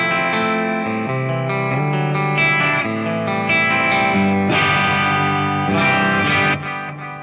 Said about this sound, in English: That's like an analog echo I've got going.